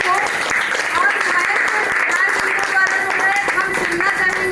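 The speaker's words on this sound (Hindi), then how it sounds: "हम चाहेंगे बिंदु मैम के लिए एक बार जोरदार तालियां हो।" Applause for a guest at a franchise launch event in Ayodhya, steady clapping mixed with voices and tonal background sound, probably music, running throughout.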